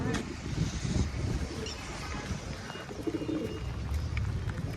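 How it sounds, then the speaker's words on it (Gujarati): Low pigeon coos repeat softly amid rustling and pecking as the pigeons feed, with a faint hum of traffic in the background. "જો કબૂતર બધા ખાઈ છે."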